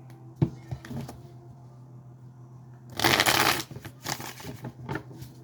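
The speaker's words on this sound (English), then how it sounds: "I'm going to shuffle this side first and then I'll go to the other side." Tarot cards shuffled by hand in several close, crisp riffling bursts, a long dense flurry in the middle followed by shorter flicks, with no talking.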